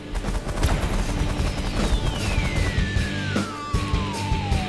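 Rapid bursts of gunfire in the space strategy game The Last Federation, dense and loud, with a descending whistling tone sweeping across the barrage.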